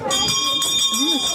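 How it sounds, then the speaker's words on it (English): Small bells jingle and ring steadily inside a nature-center cabin during a family cocoa outing, with children's voices talking over them. "You like the bells, Maggie?"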